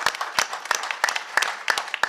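Scattered audience clapping breaks out at a Fourth of July concert lineup announcement in St. George, Utah, a handful of sharp claps and light cheers rising and falling in uneven bursts.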